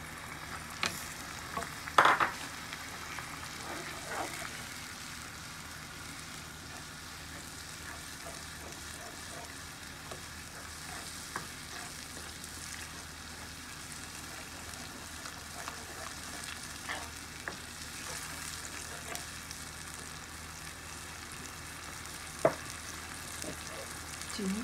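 Kashmiri red chili fries in oil while a garlic chili sauce is made, a quiet, steady sizzle with occasional stirring knocks and clicks, one sharper clatter near the start.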